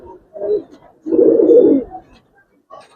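Giribaz pigeons, a hen and a silver-necked cock of an old breed, give low throaty coos in two bursts, the second longer and fuller, close by with a short pause between.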